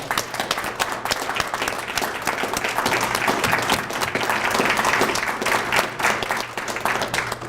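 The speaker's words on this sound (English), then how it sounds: "we just want to give you a round of applause" A crowd at a recognition ceremony breaks into sustained applause, dense clapping from many hands running steadily at fairly close range, with no voices over it.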